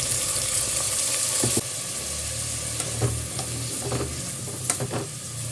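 Chopped onion and cut jackfruit pieces frying with fennel seed in a pan, a constant loud sizzle broken by several clattering scrapes and stirs of a spoon, with a low steady hum underneath.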